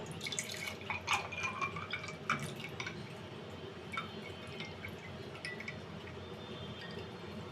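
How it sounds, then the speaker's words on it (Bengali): Roasted raw mango sherbet poured into a glass at home, a steady wet trickle with scattered glassy clinks and drips, close and fairly quiet, with no talking. "এখন শরবতটা গ্লাসের মধ্যে দিয়ে দিব।"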